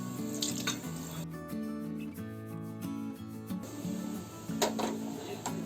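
Water pours steadily into a pot holding cleaned, seeded tamarind, making a continuous close gurgling splash that rises in pitch as the pot fills.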